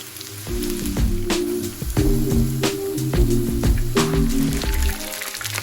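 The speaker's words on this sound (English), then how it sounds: "add your wings to the frying pan individually, and we're just going to brown them on all sides" Steady sizzling of chicken wings frying in a hot pan, with intermittent louder pops and crackles throughout.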